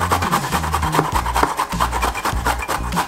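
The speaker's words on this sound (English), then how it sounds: "Grate some. Oh, that grate's easy." Fresh ginger rubbed over the small holes of a kitchen grater, giving a steady rasping scrape in quick repeated strokes, close and fairly loud, with no talking.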